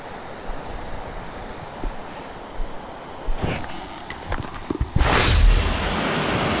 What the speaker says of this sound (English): So today I've travelled over 30 miles on my motorbike to find this waterfall.